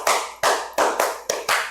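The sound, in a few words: hand clapping, 'tepuk semangat' clap pattern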